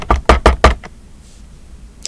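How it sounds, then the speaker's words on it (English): Four quick, firm knocks on a door land close and loud in a tight burst, followed by a pause and one faint tap. "I literally knock like this."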